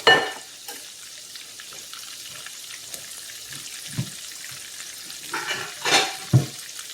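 Okra fries in a pan, giving a quiet, soft sizzle with occasional stirring scrapes and a few brief clatters, no voices present.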